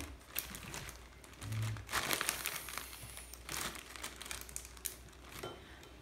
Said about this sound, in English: And then we're going to zip the big bag closed.